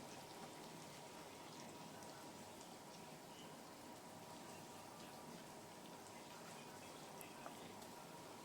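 Soft, continuous sizzling and crackling of paneer frying in a pan, steady and quiet with no talking.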